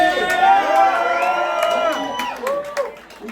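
Spectators at a skateboarding Hall of Fame ring ceremony cheer and whoop in a lively burst, many voices overlapping loudly at first and then thinning out, with some shouts and talk mixed in.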